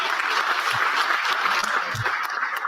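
An audience claps steadily in a dense, even wash of applause that holds at the same level from start to end, with a few faint thumps mixed in.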